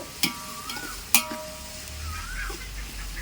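Onions frying in ghee for biryani, a low crackling sizzle with a couple of sharp stirring knocks against the pot, fairly close, with faint birdsong nearby.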